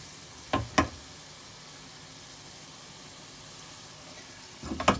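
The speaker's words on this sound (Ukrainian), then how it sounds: "І тушимо порей. Тушкуємо, щоб він став м'ягенький." Chopped leek softening in a pan with a faint steady sizzle, broken by a couple of sharp stirring scrapes near the start and another clatter of stirring at the end.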